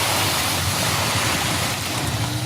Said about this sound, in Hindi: तेज आवाज हुई और 80 की स्पीड से कार चारों गुंडों समेत तालाब में जा गिरी।